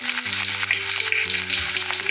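Onion dropped into garlic frying in hot oil, a loud, steady, close sizzle that runs the whole time with crackling bursts and no talk.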